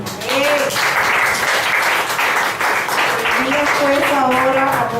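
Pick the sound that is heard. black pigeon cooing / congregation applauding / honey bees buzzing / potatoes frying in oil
congregation applauding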